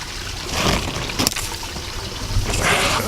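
Water is scooped from a reddish moorland stream, with splashing and gurgling pours in a couple of bursts over a steady trickle, close by.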